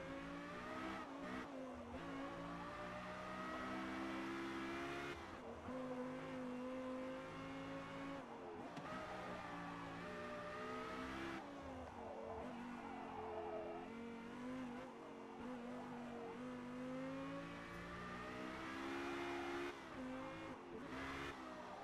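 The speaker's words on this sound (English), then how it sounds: "The engine note was tuned by Yamaha." Lexus LFA racing in Forza Motorsport, its Yamaha-tuned V10 engine screaming at high revs throughout, with repeated upshifts and dips, plus some tire squeal, loud and continuous.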